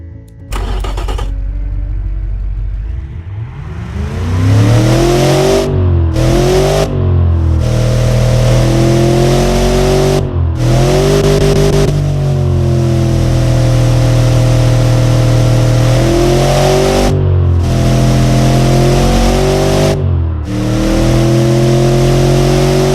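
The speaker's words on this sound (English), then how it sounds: "Some of you would say that this is a lame engine and underpowered, V8." A stock V8 with a single throttle body cranks and fires up, then revs repeatedly, each loud blip rising and falling in pitch before settling back to a rumbling idle, close and alone with no talking.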